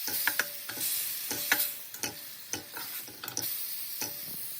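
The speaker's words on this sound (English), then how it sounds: "Add fried bitter gourd. Mix and cook for 1 minute." Fried bitter gourd being stirred and cooked in a pan of karela sabzi, with a soft sizzle under repeated rhythmic spatula scrapes and taps against the metal, close and fairly quiet.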